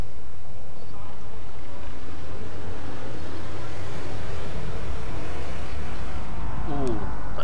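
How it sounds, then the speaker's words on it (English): Spacecraft engine from the space game Elite Dangerous: a steady broadband rumble and hiss, fairly loud and constant throughout, with a brief rising whine near the end. "Ooh, that engine sounds mean."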